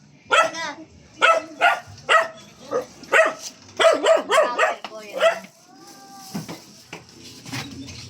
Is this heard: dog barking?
yes